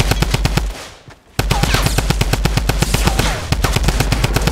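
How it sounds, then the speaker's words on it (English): Rapid automatic gunfire from Fortnite Battle Royale, a dense loud stream of sharp shots with a brief pause before the burst resumes, with almost no talk over it. "Shoot him up, Kev."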